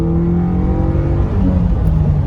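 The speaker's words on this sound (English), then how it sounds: "Another pull for you. Second gear, flat." A Nissan Sentra SE-R B13 with new injectors pulls hard at full throttle in second gear, its engine note steady, loud and close, rising smoothly with no voices over it.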